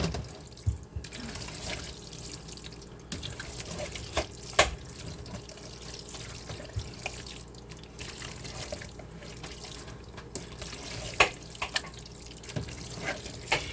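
Water runs from a kitchen tap into a sink while a tuna casserole is being prepared, a continuous splashing flow with scattered clinks and drips throughout.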